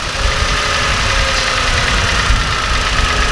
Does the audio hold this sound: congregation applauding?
no